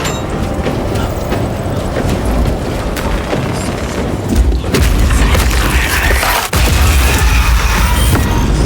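A corrupted altar blown apart in Warhammer 40,000: Space Marine II, a heavy rumbling explosion swelling midway and rolling on loudly amid crashing debris and battle noise.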